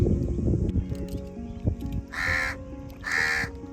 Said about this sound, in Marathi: तिकडे आलाय कावळा कावळ्यांची मजा असते तिकडे